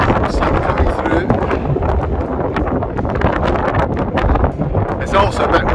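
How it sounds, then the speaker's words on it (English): Steady wind buffeting the microphone on the Beinn Dearg circuit near Ullapool, Scotland, a continuous rough rumble and hiss that stays loud throughout. "It's also a bit windy just now, as you can probably hear"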